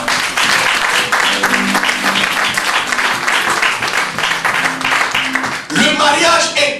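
Church congregation applauding the Lord, loud sustained clapping from many hands that continues throughout, with a brief break near the end before it resumes.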